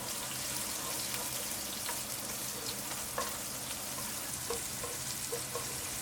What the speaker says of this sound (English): add the chilies, onions and garlic into the oil and fry for a minute